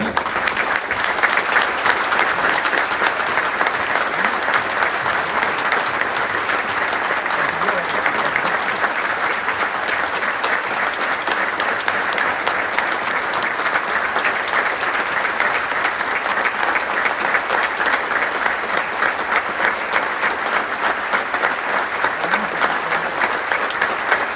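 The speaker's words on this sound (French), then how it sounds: "merci de vous lever et d'observer une minute d'applaudissement en hommage à notre ami Reda" A standing crowd applauds steadily for a full minute in tribute to a late friend before the kickoff of a regional Occitanie final, dense continuous clapping with no break.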